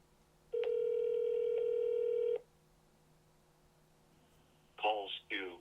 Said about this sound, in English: Now I'm making a phone call